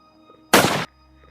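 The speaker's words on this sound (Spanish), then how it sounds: "Vecinos escucharon un disparo." A single sharp gunshot, loud and abrupt, cutting through an otherwise quiet background.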